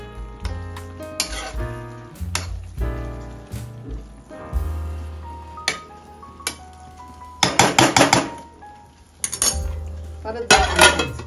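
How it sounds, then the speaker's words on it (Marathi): A spoon stirs khichdi made with birde in a pot, giving irregular metallic clinks and scrapes in bursts, with quieter gaps between stirs and a faint simmer underneath. "असं मध्ये एकदा अजून चाळून द्यायचं"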